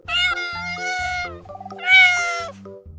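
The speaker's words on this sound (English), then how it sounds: "cat," A cat meows twice, loud and close, two drawn-out cries separated by a short pause, over soft background music.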